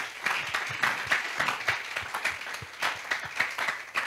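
A church congregation applauds in steady rhythmic waves of clapping that carry on throughout, with no talking over it.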